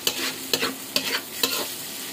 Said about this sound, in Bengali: তো এই যে দেখেন এখনো ভাজা ভাজা হইতেছে, নরম হয়নি কিন্তু এখনো, পেঁয়াজ কিন্তু এখনো নরম হয় না